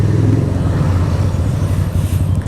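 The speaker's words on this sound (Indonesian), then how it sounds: "Idle RPM ini kalau teman-teman lihat ya, ini cenderung tinggi ya, di 1000-an." A Keeway V250 V-twin motorcycle engine idles close by with a fairly high, even idle, producing a steady low rumble that does not change for the whole short stretch.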